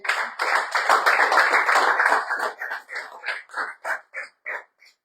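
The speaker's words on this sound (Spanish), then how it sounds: "¿Quién le da otro aplauso al Señor?" A church congregation applauds together in a burst of clapping that starts dense and loud, then thins into scattered claps and fades out over about five seconds.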